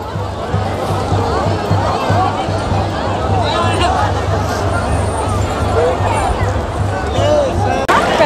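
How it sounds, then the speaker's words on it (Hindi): Dense hubbub of a large pilgrim crowd gathered at Har Ki Pauri during the Haridwar Kumbh Mela on the Mauni Amavasya bathing day, steady overlapping voices and movement filling the scene throughout, with a low constant hum beneath. "सात बजे ही हर की पौड़ी में इतनी भीड़ हो चुकी है"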